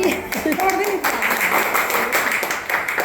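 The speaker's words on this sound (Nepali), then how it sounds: "ताली बजाउमै" Crowd of people applauding at a workplace farewell for a departing branch manager, steady dense clapping throughout with voices mixed in.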